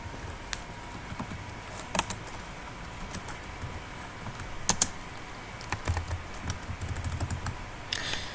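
Soft, scattered keystrokes on a computer keyboard while programming code, the clicks fairly faint and irregular over a quiet room background, with a few sharper taps standing out.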